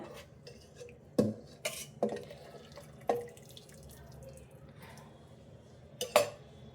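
Cooking water from boiled drumsticks is poured into a pot of sambar, a quiet pour and drip broken by several sharp metallic clinks of vessels and a ladle.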